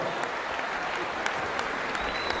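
An audience applauds to welcome comedian Shukurullo Isroilov onto the stage, a dense continuous wash of clapping from a crowd, steady and fairly loud throughout.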